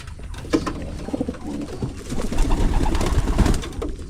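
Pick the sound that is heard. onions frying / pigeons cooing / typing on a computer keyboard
pigeons cooing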